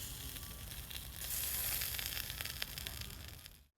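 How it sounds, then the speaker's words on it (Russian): Chicken shashlik sizzles on a grill, a soft, steady crackling hiss that swells in the middle and then fades out, with no talking. "Идеальный шашлык, ребята, жарим дальше для вас."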